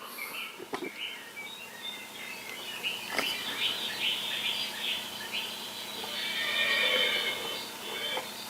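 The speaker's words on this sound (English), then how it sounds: "And here's the area with the horses." Recorded horse neighs played as a sound effect on a model railroad layout, with a few sharp whinnies over a steady hiss of layered background effects, moderately loud.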